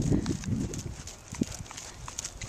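A horse canters in a dressage arena, hooves thudding in a soft rhythmic beat on the footing, fairly close, with faint creaks and breathing around the strides.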